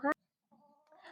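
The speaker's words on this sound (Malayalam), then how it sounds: "അപ്പോൾ ദേ നമ്മുടെ കോഴികളൊന്നും എങ്ങോട്ടും പോയിട്ടില്ല ഇവിടെ തന്നെ ഉണ്ട്" A hen gives a short, sharp cluck, then after a pause softer drawn-out clucking calls continue nearby.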